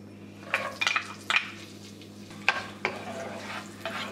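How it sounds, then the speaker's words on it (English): Chopped onions sauteing with spices in a pan for spiced cauliflower, a soft continuous sizzle broken by several sharp stirring scrapes and clinks against the pan, close by and with no talking. "Let the onions saute for about 2 or 3 minutes."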